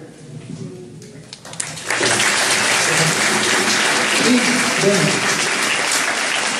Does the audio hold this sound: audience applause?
yes